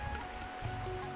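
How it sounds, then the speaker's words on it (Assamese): Rain falling steadily on an overcast day, a brief continuous broadband hiss with no voices. "আজি একদম বৰষুণ দি আছে"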